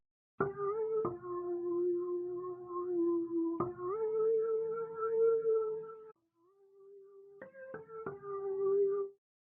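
A dry texture pluck pattern played in FL Studio without effects: a few sharp note attacks followed by held, gently sliding tones, a brief low gap, then a quick cluster of plucks ending the phrase.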